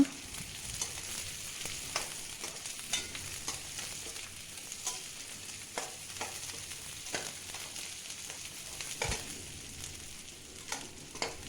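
Dried red chillies and curry leaves stir-fry in hot oil for Pallipalayam chicken, a steady close sizzle broken by repeated sharp scraping knocks of a spatula against the pan, with no voices.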